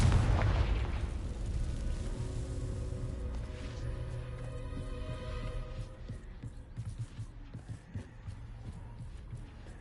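A fiery Confringo spell explodes in the game Hogwarts Legacy: a loud, heavy boom hits at the start, then fades into a long, throbbing rumble and low hum.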